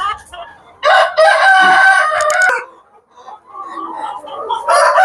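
A rooster crows loudly and close on a poultry farm of Tiger breed chickens, while other hens cluck and call around it in short bursts.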